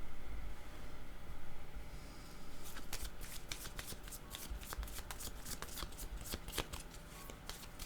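Tarot cards being shuffled, a fast run of crisp riffling snaps after a quieter rustling opening, close and clear with no talking.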